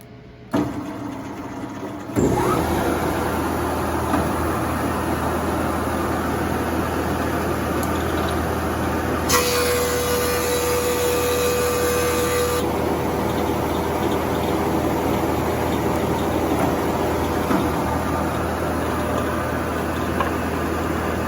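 A thickness planer feeds a wooden board for a guitar side, set to 1 inch for a second pass, giving a steady loud machine roar throughout after a brief quiet start, with a sharper cutting whine in the middle stretch.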